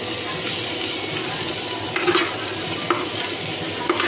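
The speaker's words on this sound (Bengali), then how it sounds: "পেঁয়াজটা আর সবজিটা পুরো ভাজা ভাজা হয়ে এসেছে, আর একটু ভেজে নিতে হবে" Onions and vegetables fry in a pan for chowmein, giving a steady close sizzle with a few light clinks of a utensil stirring against the pan.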